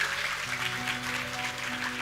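An audience at a Bhagavat katha claps steadily for two seconds, a dense, continuous patter of applause with a faint sustained tone underneath.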